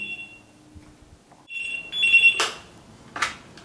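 Home intercom ringing with electronic tones, a steady beep followed by a louder buzzing ring that repeats shortly after, close and clear with no talking.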